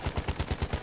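A Madsen light machine gun in Battlefield 1 fires a rapid automatic burst of about eight evenly spaced shots, sharp and punchy, with no talking.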